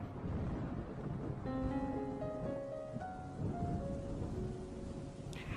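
Steady rain pours over a scene from an animated Gacha mini-film, a dense continuous hiss with low rumbling like distant thunder, while soft sustained musical tones sound over it midway and no one speaks.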